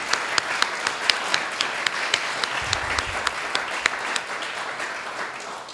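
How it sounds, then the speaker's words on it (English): Lecture audience at a laureate talk applauds in a steady, moderately loud wash with sharper individual claps standing out, continuing evenly throughout. "So I'll invite you another round of applause for Jackie."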